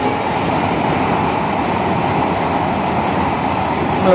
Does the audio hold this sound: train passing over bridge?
yes